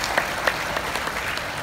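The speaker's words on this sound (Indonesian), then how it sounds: "Tepuk tangan" Brief applause from a small audience at a testimonial gathering, a few people clapping close by with sharp individual claps over a continuous patter.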